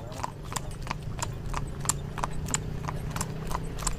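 Horse hooves clip-clop at a steady trot as a horse-drawn carriage moves through the streets of Edfu, Egypt, an even, regular rhythm heard up close with faint street background.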